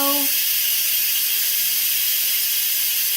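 Loud, steady hiss of steam venting under pressure from an Instant Pot during pressure release, continuous throughout, after a brief whistle-like tone at the start.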